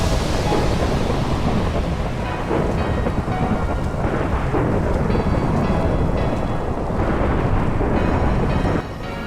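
A thunderstorm in Minecraft with a solar apocalypse mod: heavy rain hisses without pause while deep thunder rumbles roll through, loud and close, with no voices.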